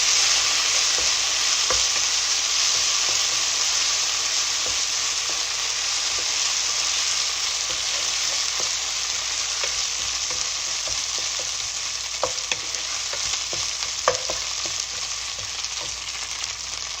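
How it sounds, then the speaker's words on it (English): Ginger garlic paste sizzles steadily in hot oil in a pan, with a constant close hiss and occasional soft scrapes and clicks as it is stirred, and no voices. "Now it's time to add ginger garlic paste, 1 teaspoon. Just stir it like that for 20 seconds."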